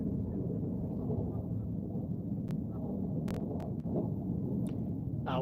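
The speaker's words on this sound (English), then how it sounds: "the noise you're hearing are jets" Fighter jets, most likely F-16s, flying overhead during the Israel–Gaza war, heard as a constant low, thunder-like rumble at a distance, with a few sharp brief clicks over it and no talking.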